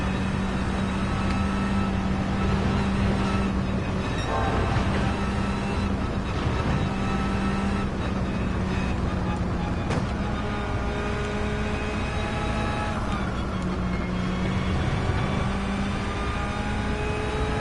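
Race car engine at full throttle in Gran Turismo 7, a loud sustained droning whine that holds steady pitch with slight rises and shifts, continuous and up close with no talk.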